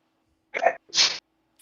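One close sneeze in two parts, a breathy intake then a sharp burst, in an otherwise quiet room.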